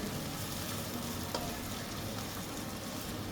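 Tomatoes and chicken masala sauté in a pan, giving a continuous low sizzle with faint scraping as the mixture is stirred, steady and fairly quiet throughout.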